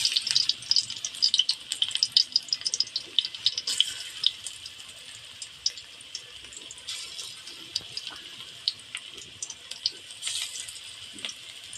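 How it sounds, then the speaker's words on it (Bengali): Small taro leaf fritters frying in a little hot oil, a continuous fine crackling sizzle with scattered sharp pops, steady and close with no voices. "হালকা তেলে ভাজতে হবে"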